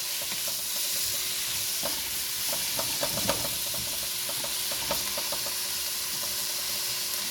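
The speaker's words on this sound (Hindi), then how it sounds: "अब ये मेरे पास जो हाफ़ के जी कीमा है वो मैं इसमें डाल दूँगी।" Half a kilo of machine-minced keema frying in a pan with a steady, loud sizzle and hiss, plus occasional stirring scrapes and pops close up, and no talk.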